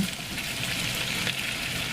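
Continuous hissing sizzle of onion, celery and bell pepper frying in a hot pan, steady and close throughout.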